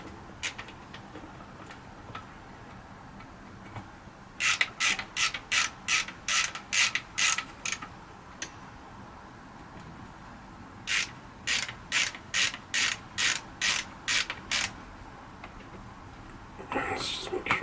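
A ratchet snugs up tiny carburetor screws on a Kawasaki KZ400 in a crisscross pattern, its rapid clicking coming in two close, loud bursts of about ten strokes each, with some quiet handling noises between them.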